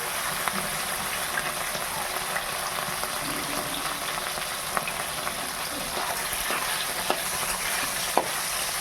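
Bata fish frying in hot oil, a dense, even sizzle with occasional soft ticks and stirring scrapes, close and continuous without talk.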